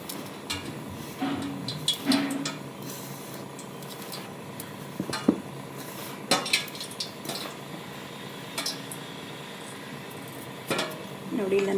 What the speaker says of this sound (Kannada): ಫಸ್ಟು ಸಲ ಮಿಕ್ಸ್ ಮಾಡ್ಕೊಳ್ಳೋಣ ಒಂದು ಸಲ.